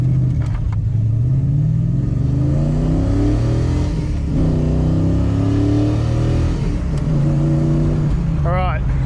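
Manual V8 Holden VN car accelerating hard through the gears, the engine note climbing and dropping with each shift, loud and continuous from inside the cabin, with a voice talking over it.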